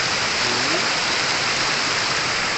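Waterfall at Air Terjun Tretes in a natural forest setting, a loud, dense, continuous rushing roar of falling water that stays steady throughout, with no voices.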